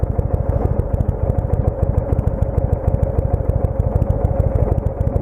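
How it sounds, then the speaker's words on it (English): An American motorcycle engine idles close by with a loud, steady, rapid throbbing pulse and mechanical clatter that holds constant throughout, with no voices. "But here in America, I have a American motorcycle."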